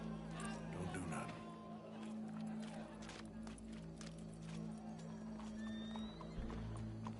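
A horse neighs and hooves clop amid game-like ambient sound with a steady low hum, with a voice talking over it.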